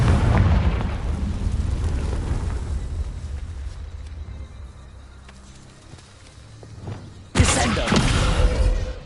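Confringo blasting spell from the Hogwarts Legacy video game: a loud burst opens, a rumbling tail fades into quieter ambience, then a second sharp explosive blast hits near the end.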